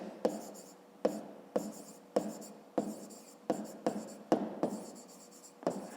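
A pen writes on paper in short, crisp scratchy strokes, about ten separate bursts with brief pauses between them, close and quiet.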